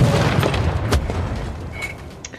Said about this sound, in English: These field cannons are not so good as the artillery.